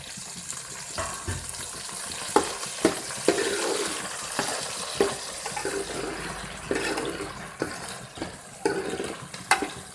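Tomatoes hit a pan of frying onions for a chicken fry, giving a bubbling sizzle broken by several sharp clanks and scrapes of stirring at irregular intervals.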